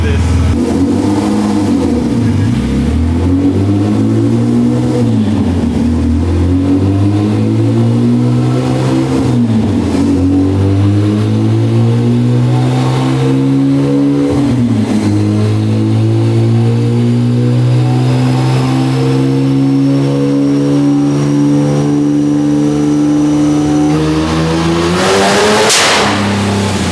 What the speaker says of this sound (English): That was the craziest nitrous backfire I've ever seen